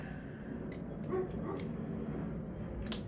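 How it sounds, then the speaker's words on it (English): A neighbor's dog gives a few short, distant yips and barks, faint against steady room background, with no talking. "Sorry guys, that's the neighbor's dog,"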